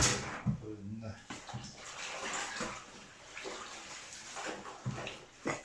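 Spring water is splashed and poured for cleaning during a water crisis in Neskantaga, with irregular close sloshes and trickles and a brief voice near the start.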